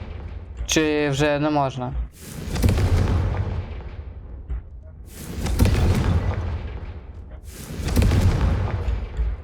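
A Confringo spell blast in Hogwarts Legacy: three loud, booming explosive bursts spaced a few seconds apart, each with a broad rumbling tail, preceded by a short sung or musical tone and a brief spoken line.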